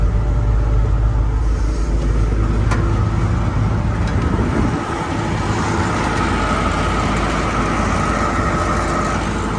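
A John Deere 1170 combine harvester engine idles steadily and loudly with a constant low rumble, smooth and unbroken throughout.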